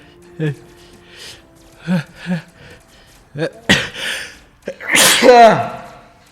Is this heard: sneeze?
yes